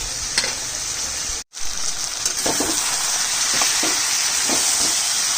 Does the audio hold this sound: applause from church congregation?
no